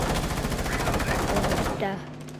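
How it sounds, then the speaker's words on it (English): Rapid gunfire bursts from shooting through a wall in Rainbow Six Siege, loud and continuous for about two seconds before cutting off, with a short tonal game sound after. "I'm trying to shoot someone through the wall"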